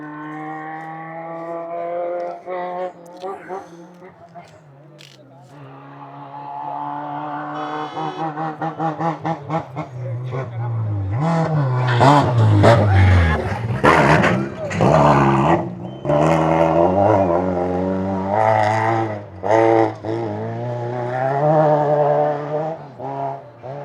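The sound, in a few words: rally car engine revving on K1000 Rally track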